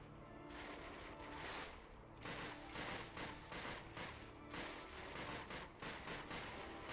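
Repeated gunfire from the Call of Duty Finest Hour war game comes in a series of bursts and volleys, quiet and distant, with rattling gaps between salvos.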